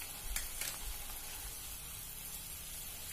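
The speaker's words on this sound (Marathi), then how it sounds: "उकळतो आहे आपला रस्सा, त्यातच कोथिंबीरही घालते" Potato rassa curry for a fasting meal simmers in a pot, giving a soft, steady hiss of bubbling with a couple of faint clicks early on, quiet and close with no talking.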